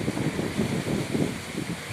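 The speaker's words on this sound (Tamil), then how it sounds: "புயல் காற்று அடிக்கிற மாதிரி அடிச்சிட்டு இருக்குது பாருங்கள்" Steady roaring storm wind buffets the microphone in low, surging gusts, with no voices.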